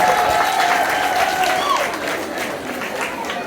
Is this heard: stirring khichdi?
no